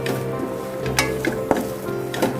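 Coriander powder and chili powder fry in a pan for cauliflower masala curry, a low sizzle under repeated clinks and scrapes of a spoon stirring against the metal.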